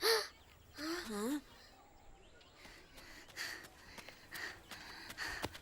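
Crows cawing among birds eating crops in a field, a few loud calls early on, then fainter bird sounds under people talking.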